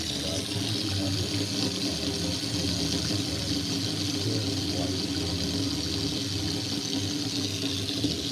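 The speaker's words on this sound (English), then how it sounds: "let the water flow over and just change the angles of it" Tap water flows steadily over strawberry tree fruit as it is rinsed, a continuous close splashing hiss with a faint low hum underneath.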